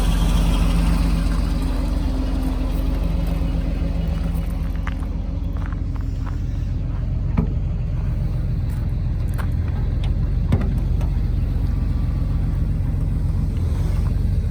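A 1990 Porsche 964 Carrera 2 idles steadily close by, a loud, continuous low rumble with a slightly uneven mechanical beat and no voices.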